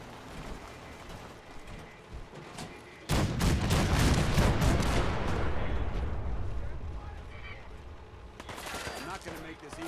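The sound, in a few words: cannons firing in Fallout 4 video game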